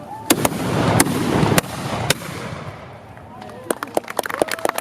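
Flintlock musket volley fired from the right at a military museum opening picnic, a series of sharp loud bangs going off one after another with gaps, then a ragged burst of further shots near the end, outdoors with crowd noise.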